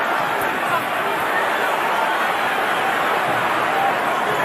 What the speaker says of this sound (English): The crowd going absolutely crazy.